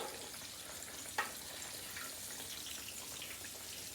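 Country fried steaks frying in hot oil, a steady faint sizzle and bubbling with one brief sharp pop near the start.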